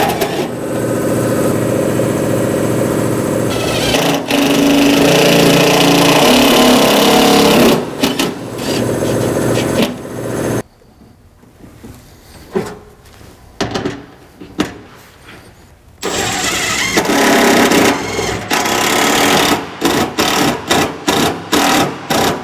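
An impact driver sinks self-tapping screws while a transmission cooler is installed, with long loud buzzing runs, a quieter gap, then a quick series of short hammering bursts nearby.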